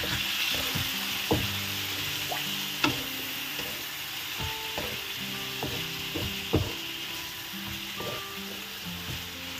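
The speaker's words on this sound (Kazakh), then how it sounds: "Керегінше көзімізді салып, тағы да араластырып қуырамыз." Meat sizzles steadily in a pan with paprika as a spoon stirs it, with sharp scraping knocks and clatters over the continuous frying hiss for a Kazakh zhaima dish.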